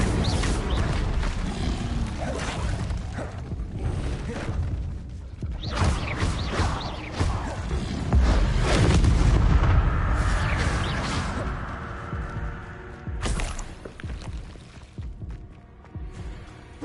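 The Incendio fire spell goes off in Hogwarts Legacy as a dense run of whooshing, bursting blasts and crackling impacts that fade into a lingering hum and ring, with no talking.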